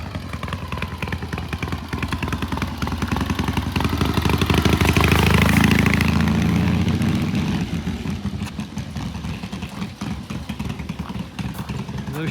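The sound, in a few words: 1978 Triumph T140 motorcycle idling with shorty muffler pipes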